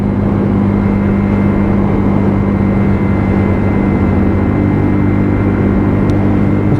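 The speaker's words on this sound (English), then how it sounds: "Let's get a little bit more power on the bike. Give it a little bit of a torque." A WK Scrambler 125cc motorcycle on a test ride gives a steady, unbroken engine drone close by, with rushing wind noise and no voices.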